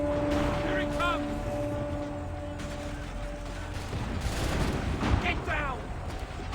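Dense battle noise from Assassin's Creed 3, with repeated gunfire and artillery rumbling steadily under game voices and shouting throughout.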